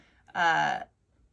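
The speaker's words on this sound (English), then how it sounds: "I apologize for my cat. He's always noisy." A single drawn-out cat meow, clear and close, rising then fading over about half a second in an otherwise quiet room.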